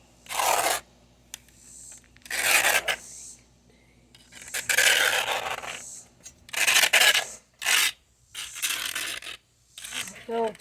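Grass clippings being scraped off the underside of a lawn mower deck, a series of close, rough rasping strokes in bursts with short pauses between them.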